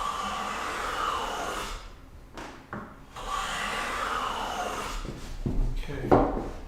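A hand plane pushed along wood cuts full-width shavings with two long, rasping swishes, each ending with a brief gap. Close knocks and scrapes from clearing the plane's mouth follow.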